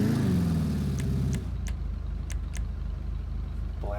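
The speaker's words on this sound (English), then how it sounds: "Rev up the engine." Declasse Impaler SZ muscle car engine in GTA 5 rumbles at steady idle after a brief rise in revs, with a few sharp clicks from menu selections over the constant low drone.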